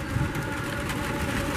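The Bangunkarta passenger train runs straight through Cibatu station toward Bandung in the rain, making a steady, close, broadband rumbling roar that holds even throughout with no talk.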